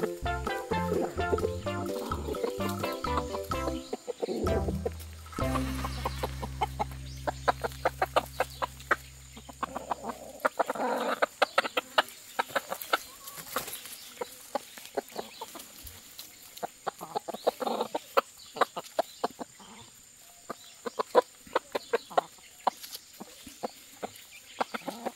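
Several five-week-old Black Ameraucana chickens cluck and cackle throughout in their coop, with a low droning tone at the start and scattered sharp pecking or tapping noises in the background.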